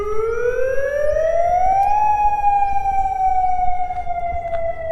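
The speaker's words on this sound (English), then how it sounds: "I've got a siren going on behind me because the dam wants to release extra water" A dam warning siren sounds before extra water is released, a loud, steady wail rising in pitch, holding, then slowly sliding down, heard alone outdoors.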